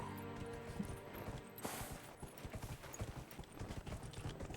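Horse hooves clip-clop in a steady walking rhythm in the video game Dragon Age Inquisition, fairly quiet, with faint game ambience underneath.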